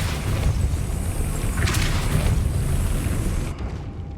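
A Depulso spell goes off in Hogwarts Legacy, a dense booming blast with a brief sharp burst partway through, over a loud roaring background that suddenly drops away at the end.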